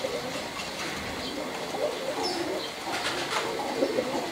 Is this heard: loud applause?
no